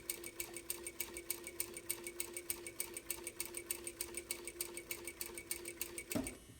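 Sewing machine stitching a fabric seam, a steady rapid needle rhythm running for about six seconds before stopping abruptly with a short clunk at the end.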